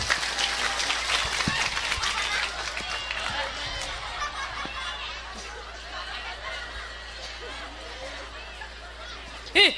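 Congregation at an Indonesian religious gathering claps for a child named Ramadhani, a scattered crowd applause with chatter and light laughter that thins out over several seconds.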